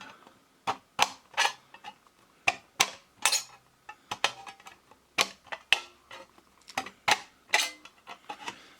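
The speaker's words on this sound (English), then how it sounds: "you're able to cut a circular hole out of a can with a pair of scissors" Scissors snip and crunch through a thin metal tuna can in a steady run of sharp, close cuts, each with a brief scraping, metallic crackle.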